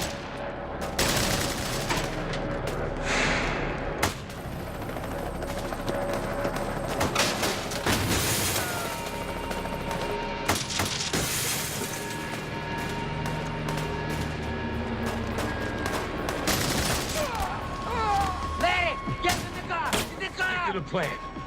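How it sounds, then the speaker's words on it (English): A movie bank-heist shootout erupts with rapid bursts of semi-automatic gunfire, loud and overlapping cracks repeating through the scene while voices shout between volleys. "They're still shooting at us."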